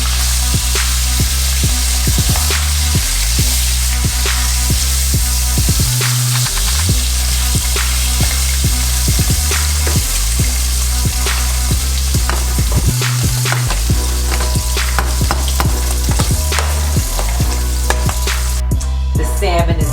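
Salmon fries hard in a pan with a loud, dense, continuous sizzle and crackle of hot oil, close up and without pause. A steady low hum sits beneath it, and no one speaks.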